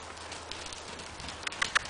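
A yearling horse cantering, its hoofbeats faint and distant, with a few sharper thuds standing out near the end over low background noise.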